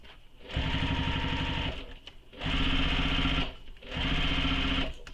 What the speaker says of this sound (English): lift up your presser foot, pivot slightly, take another stitch